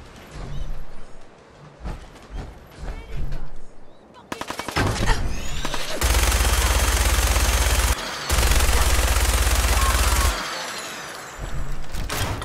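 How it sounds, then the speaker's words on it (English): Sustained automatic gunfire in Fallout 4, with scattered shots early, then long dense bursts of machine-gun fire that run loud and close for several seconds, broken by a brief pause, with a few quieter shots at the end. "Who's shooting at me?"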